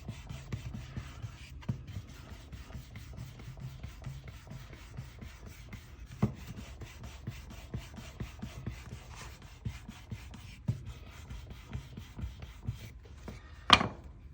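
A leather wallet edge rubbed with 3000 grit sandpaper, giving quiet, rapid back-and-forth scratching strokes in a steady rhythm, close up and soft, with one brief louder scrape near the end.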